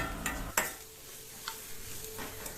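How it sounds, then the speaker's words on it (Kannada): Tomatoes soften in a pan for a curd-based saaru, giving a faint low sizzle with a couple of sharp clinks of a spoon against the pan and soft stirring scrapes. "ಟೊಮೆಟೊ ಎಲ್ಲ ಸಾಫ್ಟ್ ಆಗಬೇಕು, ಅಲ್ಲಿವರೆಗೂ ನಾವು ಇದನ್ನು ಫ್ರೈ ಮಾಡ್ಕೋಬೇಕು"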